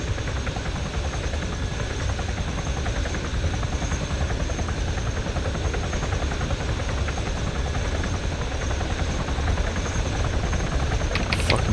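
A helicopter in a video game flies overhead with a loud, continuous rotor drone that holds steady for the whole stretch, with no talking.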